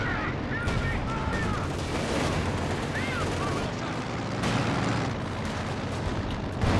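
A Command Panther tank fires at a T-34 in a World War II tank video game. Cannon booms sit within steady, dense battle noise, with a commentator talking over it throughout.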